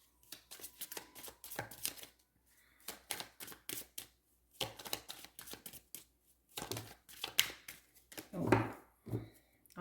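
Tarot cards shuffled and drawn in a daily reading, giving repeated short papery snaps and slides that come in bursts separated by pauses, with a louder rustle near the end.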